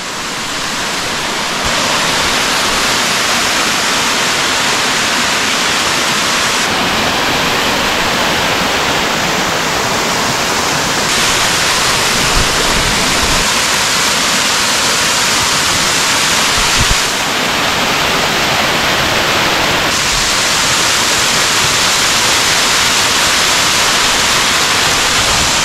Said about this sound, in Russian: Большую слабость я питаю к водопадам.